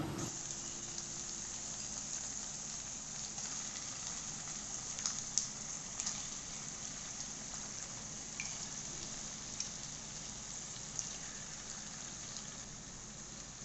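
Chicken liver dropped into a pan of mint, onion and ginger-garlic paste over low heat gives a steady, even sizzle and crackle, quiet and unbroken, with occasional faint pops and no voices.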